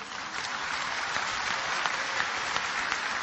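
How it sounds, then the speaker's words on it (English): An audience claps steadily and densely through a religious talk, a continuous wash of many hands that stays at an even level from start to finish. "MashaAllah, you're clapping."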